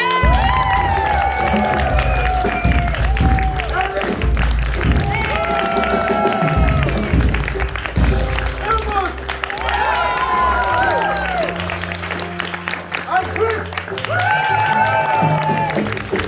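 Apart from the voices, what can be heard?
audience applause for the band at an improv show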